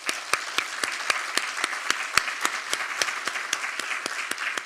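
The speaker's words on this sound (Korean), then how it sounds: "박수 한번 해주세요." A church congregation at a Korean prayer school service applauds, steady, brisk clapping from many hands filling the room, moderately loud and sustained with no speech over it.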